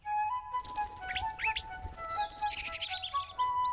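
Cartoon birds chirping and tweeting in a backyard birdhouse, several bright overlapping calls and whistles over a steady tonal background, close and continuous with no talk.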